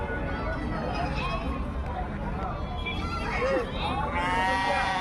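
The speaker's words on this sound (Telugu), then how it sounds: "చూడండి ఫ్రెండ్స్, గొర్రెలు అయితే అన్నీ లేత వాటంగానే ఉన్నాయి" Young sheep at the Gudur livestock market bleat intermittently over a busy crowd hum, with people talking nearby and several overlapping calls near the end.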